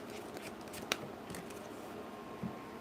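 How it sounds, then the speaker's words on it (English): Tarot cards being shuffled, a soft steady riffling with a couple of sharper card snaps, quiet and close, no voices. "Let's get one more shuffle in."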